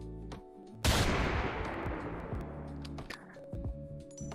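An anti-tank rifle in VRChat fires one sharp, loud shot that decays into a long noisy tail, with faint scattered clicks and fainter shots around it.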